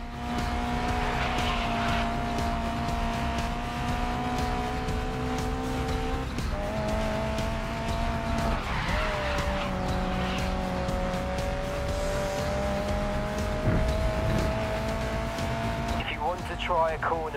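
Race car in the Grid Legends video game sliding under handbrake, a steady loud engine drone with shifting pitch and tire squeal near the end, while a voice talks over it throughout.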